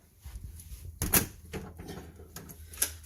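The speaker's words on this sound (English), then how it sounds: "Always lock the doors." A house door is shut and locked indoors, one soft thud followed by a few faint clicks and rattles of the lock against a quiet room background.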